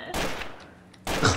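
Gunfire in Trouble In Terrorist Town, two loud, dense bursts of rapid shots with a short quieter gap between them.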